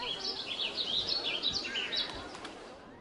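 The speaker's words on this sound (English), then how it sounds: "Can I turn down the bird sounds?" Looping ambient bird chirps and tweets from the video game Planet Coaster 2, a run of quick high calls over a soft background bed, fairly faint.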